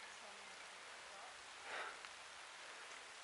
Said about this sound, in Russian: Дождь пытается побороться с нами.